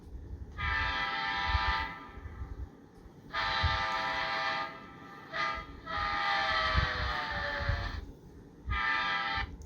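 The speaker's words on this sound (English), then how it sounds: "F5 is the Doppler horn." Rapido F59PH model locomotive sounding its Doppler horn in five long harmonic blasts with short gaps, the pitch bending downward in the fourth blast, fairly loud over a low rumbling motor hum.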